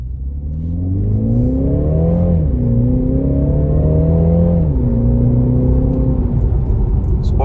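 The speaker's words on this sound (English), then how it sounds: "you can hear the car, you can feel it too" A 2022 Mini Cooper Countryman S All4 engine accelerating steadily in sport mode, its pitch climbing and shifting through gears as it revs, loud and continuous from start to end.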